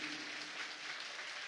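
Congregation at a church service clapping for the Lord, a brief steady wash of many hands at moderate volume, slightly distant, with no voices over it.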